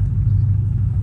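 A deep, steady engine rumble from a Ford F-150 pickup truck idles close by, low and continuous with no talking.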